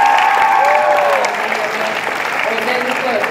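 A crowd at a university leaders' colloquium claps steadily for the row of deputy deans, a full, even round of applause with speech heard over it.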